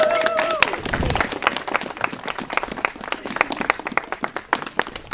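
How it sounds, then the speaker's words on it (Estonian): Audience applause at a house museum opening, a lively crowd clapping with distinct individual claps, mixed with brief voices and a whistle-like tone at the start. "Paluks aplausi siia."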